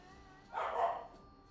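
A single muffled bark sounds briefly from nearby against a quiet background.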